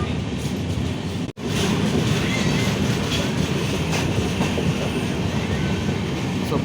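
A passenger train runs between Vijayawada and Hyderabad, with a loud, continuous rumble and rhythmic clickety-clack of wheels on the rails. A brief dropout comes near the start, then the steady roar continues close by.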